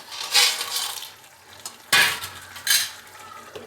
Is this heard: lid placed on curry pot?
yes